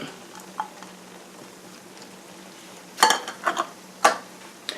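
A simmering cream sauce thickened with Italian cheese, with quiet bubbling at first and then a few short, close scraping stirs of a utensil in the pan.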